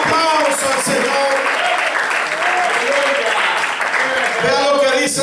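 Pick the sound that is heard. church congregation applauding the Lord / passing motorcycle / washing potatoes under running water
church congregation applauding the Lord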